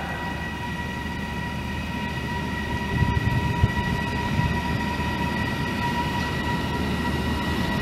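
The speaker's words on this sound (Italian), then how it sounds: "Il treno regionale 5554 di Trenitalia proveniente da Cosenza e diretto a Reggio di Calabria Centrale" A Trenitalia regional train rumbles steadily into Villa San Giovanni station with a low, continuous roar and faint tonal hums, swelling slightly midway as it rolls along nearby; no voices.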